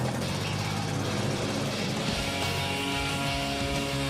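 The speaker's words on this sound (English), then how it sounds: "push this button and it'll turn the motor over" Go-kart engine running, a loud, close, buzzing small-engine drone that holds steady for the whole few seconds with no voices.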